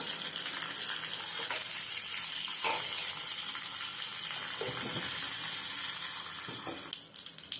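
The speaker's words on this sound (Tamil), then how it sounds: "எண்ணெய் கொஞ்சம் ஊற்றிங்க கொஞ்சோண்டு கடுகு போட்டுக்கலாம் கொஞ்சம் வந்து சீரகம் போட்டுக்கலாம் ரெண்டு காஞ்ச மிளகா" Mustard seeds, cumin and dried chillies sizzle in hot oil while tempering for mookirattai keerai kadaiyal, giving a steady, close, dense crackling hiss with a few brief pops throughout.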